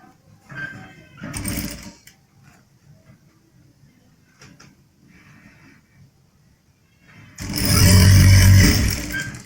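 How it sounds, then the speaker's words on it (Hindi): An electric sewing machine stitches a double-bone back pocket on a pair of men's trousers. A short run of stitching comes early, then quiet handling noises follow, and a louder, sustained whirring run of stitching fills the final seconds. "इसको इस तरह से सिलाई कर दें"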